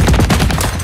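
Loud, dense gunfire from Gears of War 4, a short run of rapid close shots with no voices.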